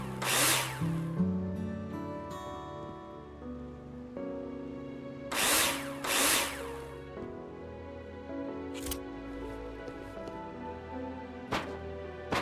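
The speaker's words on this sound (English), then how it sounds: "screw them in with a drill" A power drill in the video game Builder Simulator whirs in several separate bursts while screwing in wall profiles, its motor whine rising and falling between short pauses.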